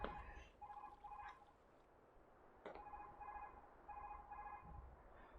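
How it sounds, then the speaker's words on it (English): A phone rings with an incoming call, a faint electronic ringtone repeating in two rapid trilling bursts separated by a short pause, with no talking. "Someone's calling me, but I'm not answering the phone."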